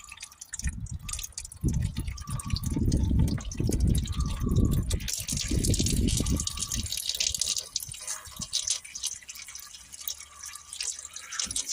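Transmission oil drains from the opened plug of a Volvo V70 five-cylinder diesel automatic gearbox, a close, strong pouring and splashing stream into a container that gradually thins to a lighter trickle and drips.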